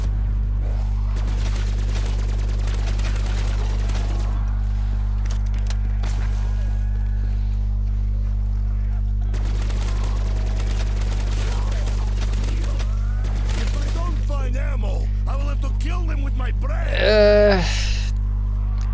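Gunfire from a player's weapon in the Call of Duty zombies map Kino Der Toten, bursts of shots scattered across a steady low game hum, ending in a brief louder rising effect.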